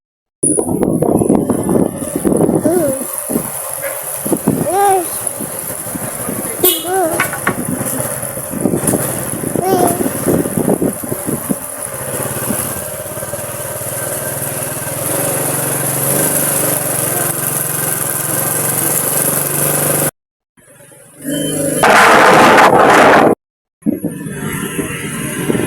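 Engine of a motorcycle carrying a small child and a parent on a ride through town, a steady droning hum running beneath cheerful talk, cutting out briefly near the end.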